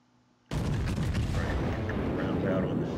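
A Montana battleship's main guns fire in World of Warships, a sudden heavy boom after a short quiet start that rolls into a loud, sustained rumbling blast.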